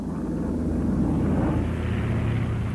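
Avro Lancaster bomber engines drone in a steady, dense roar that holds evenly throughout with no voices, a continuous propeller-engine rumble at moderate distance.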